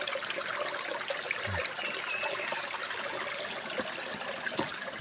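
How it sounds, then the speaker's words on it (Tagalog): Strong, steady rush of spring water flowing from beneath a large rock, continuous and close, with no voices over it. "Ganyan pa rin yung agos ng tubig, malakas."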